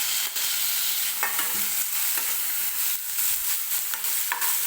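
Tomatoes fry over onions in a pan, a constant sizzle broken by repeated stirring scrapes and clinks at a near, even pace.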